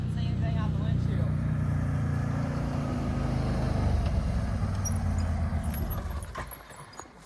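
A Can-Am off-road vehicle drives steadily with a low rumbling engine and rattling, loud and close throughout and easing off near the end.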